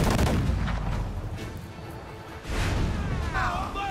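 Ship cannons boom in a rapid volley during a naval battle in Assassin's Creed 4 Black Flag, heavy and close, with a second burst after a brief lull.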